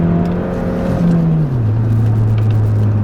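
A Volkswagen GLI revs hard with little grip, its engine note climbing and then dropping into a lower steady drone as the tires spin; the sound is close and loud with no talking.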